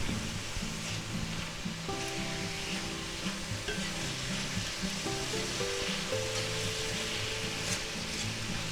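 Mushrooms fry in garlic butter in a pan, a soft continuous sizzle and crackle with occasional faint stirring clinks, close and steady throughout.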